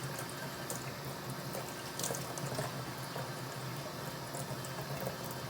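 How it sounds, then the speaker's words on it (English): Steady water runs from a sink tap, a continuous even splashing rush that holds at moderate volume throughout. "I'm actually just gonna use the sink water"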